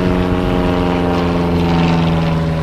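A vintage propeller aircraft drones steadily at an airshow in Hradec Králové, a loud, even engine-and-propeller hum with a strong low tone holding throughout.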